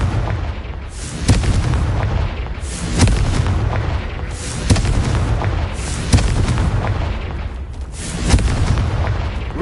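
Repeated Confringo blasting-spell explosions in Hogwarts Legacy, heavy booming blasts arriving roughly every one and a half seconds over a rumbling background, loud and close with no talking.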